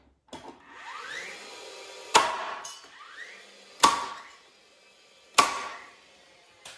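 Hammer blows drive 3 1/4 inch construction nails into wood for a chicken coop frame, with three sharp, loud strikes spaced about a second and a half apart and lighter taps in between.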